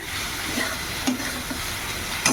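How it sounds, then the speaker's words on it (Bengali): Prawns and fish roe fry in hot oil, giving a steady close sizzle with a few scrapes and stirring clicks, including a sharper one near the end. "এবার এই মাছের ডিম আর চিংড়ি মাছটা ভেজে নেব"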